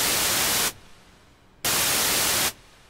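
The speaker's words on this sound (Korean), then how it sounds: "화이트 노이즈로 벌써 만들었어" Synthesized white noise from a synth patch built for a rising sweep effect, loud and steady, cutting off abruptly into near silence and then returning in two separate bursts, with no one talking.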